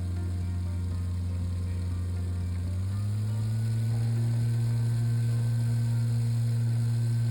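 An electric motor run by a controller hums with a steady low tone that steps up in pitch about a third of the way through as its duty cycle is raised, then holds constant.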